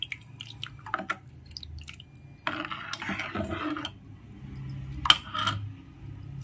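Asafoetida powder is stirred into tamarind water for rasam, giving close, wet swishing and light clinks of a spoon against the vessel in uneven bursts, with a few sharp taps.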